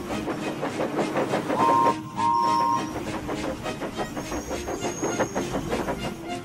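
Steam locomotives chuff rhythmically as they pull away, with hissing steam, rolling clatter and brief whistle tones, loud and steady throughout.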